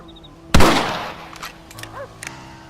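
A single loud rifle shot fires in a Red Dead Redemption cutscene, a sharp close blast with a ringing tail, followed by a few faint clicks and rattles.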